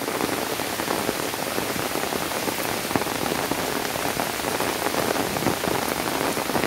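Rain pours over a village with ponds, a thick, even hiss of drops pattering on surfaces, steady and loud from start to finish with nobody speaking.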